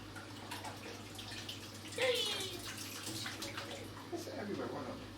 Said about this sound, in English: Right, the water is flowing.